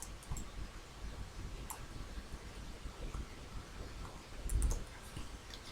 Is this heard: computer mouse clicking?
yes